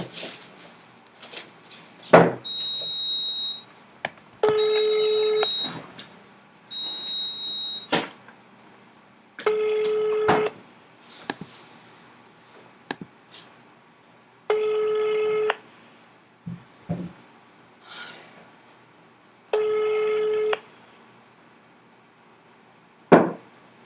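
A telephone call being placed: a few short dial tones followed by repeated ringback tones, evenly spaced bursts of ringing with quiet gaps, and no one picking up.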